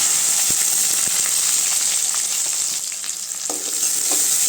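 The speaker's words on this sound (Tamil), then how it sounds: "காஞ்ச மிளகாய் போட்டுக்கலாங்க கறிவேப்பிலை வெங்காயம்" Dried chillies, curry leaves and onion fry in hot oil for tomato chutney, giving a loud, hissing sizzle close up, with occasional scrapes and taps of a stirring spoon.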